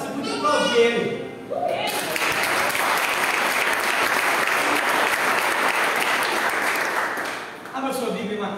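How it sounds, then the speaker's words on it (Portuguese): Church congregation applauding together for the pastor, a loud, dense burst of clapping that swells and holds steady for several seconds, framed by brief stretches of someone speaking before and after. "você podia aplaudir ele"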